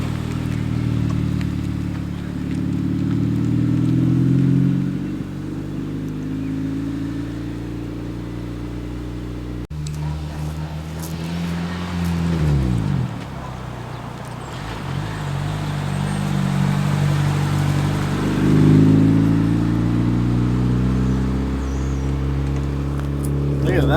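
A lowered stance car with a VTEC engine idles roughly close to stalling, its engine note wavering, sagging and briefly revving back up while voices can be heard over it.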